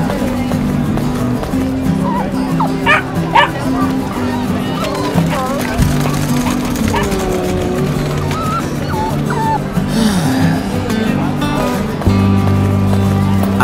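Game-style dog barks and yips from a Roblox Brookhaven roleplay sound in short bursts over steady background music, with voices talking throughout.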